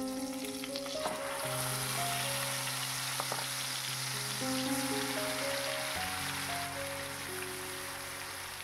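A ginger, garlic and green chilli paste fries in a pan for doi katla, a Bengali fish curry, giving a close, steady crackling sizzle throughout. Tonal background music plays underneath.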